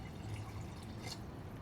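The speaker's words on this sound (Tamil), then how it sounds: "இந்த பீரியடில் வந்து ஒரு 1200 ml தண்ணியை வந்து ஊற்றி" Water poured into a pot of biryani on the stove, a steady faint liquid splash and trickle lasting a second or two with no voices.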